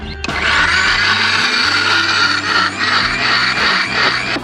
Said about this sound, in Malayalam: വലിയ ശബ്ദം കേട്ടു. ലൈഫിൽ ആദ്യമായിട്ടാണ് മിക്സി ഉപയോഗിക്കുന്നത്.